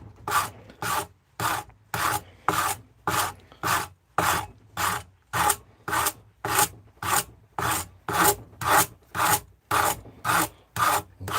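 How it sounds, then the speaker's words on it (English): A hand rasp files and shapes a wooden shillelagh in a steady series of about twenty rough, scraping strokes with short pauses between them, close-up and with no speech. "See if how close I can get in with this rasp"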